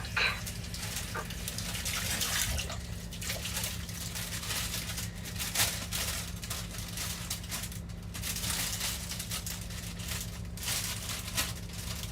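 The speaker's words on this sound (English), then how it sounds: "So, let's get this rocket washed." Tap water runs steadily over rocket leaves being rinsed in a home kitchen, a continuous splashing gush with slight shifts as the leaves are moved under the stream.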